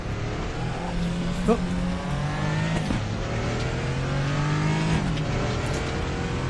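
In the Raceroom racing game, a Porsche engine revs and shifts through gears with a loud, continuous drone that climbs and drops, other race cars mixed in, and a brief exclamation from a voice.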